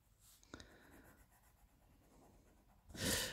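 Pencil colouring in small leaves on paper for an Easter spring colouring event, a soft faint scratching with a sharper scrape near the start and a louder burst of rubbing at the end.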